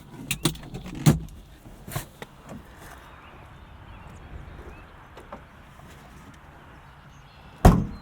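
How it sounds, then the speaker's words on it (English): Plastic airbox cover being fitted back onto a 2001 Honda S2000 engine bay, a handful of sharp clunks and clicks near the start and one loud knock at the end, with quiet rustling fiddling in between. "Let's put our Airbox cover back on."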